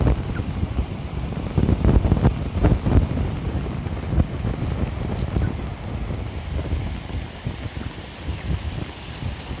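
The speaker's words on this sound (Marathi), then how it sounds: "या सांडेवर सुद्धा पाणी चाललेलं आहे बघा" Muddy floodwater pours over an earthen bund between village fields, a broad rushing wash close by, louder in the first few seconds, with wind buffeting the microphone and no voices.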